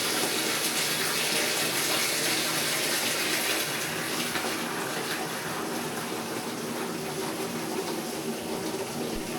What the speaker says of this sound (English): First, I wash my family's clothes.